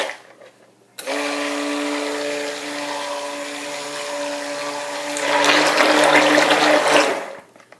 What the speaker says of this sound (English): I'm going to give it a buzz to mix up the colloidal oatmeal and just, sort of incorporate everything that's in here